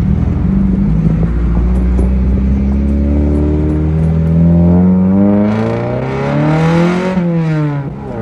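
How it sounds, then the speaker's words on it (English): A Honda car engine revs hard and close, with a loud buzzy note that climbs in pitch several times and then drops back. Each rise and fall is smooth, and the engine runs alone without any voices. "Sounds like a Honda. Definitely a Honda."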